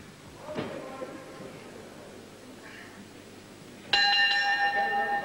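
A wrestling match bell rings once, a bright metallic ding that lingers as a sustained ringing tone over faint arena murmur and background noise.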